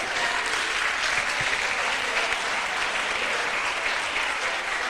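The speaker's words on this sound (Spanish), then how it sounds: "Gracias por el cálido aplauso." Audience at a 75th anniversary event for a statistics degree program clapping warmly, dense steady applause that holds for several seconds without a break.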